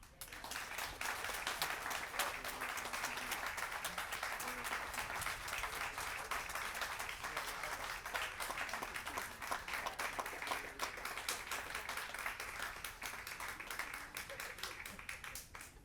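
A crowd at a Southfield police memorial gives sustained applause, with dense, even clapping that holds steady for about sixteen seconds at a moderate distance.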